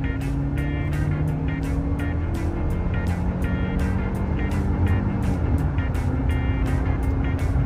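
Mercedes C180 car driving in first gear, a steady engine and road rumble heard from inside the cabin, with regular rapid ticking over the top, continuous and fairly loud with no talk.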